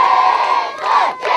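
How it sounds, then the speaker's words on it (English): A large crowd shouts and chants at the unveiling of the Bat of Honour ceremony, a loud, dense mass of voices with rhythmic swells that dip briefly near the end. "Let's keep that chant going."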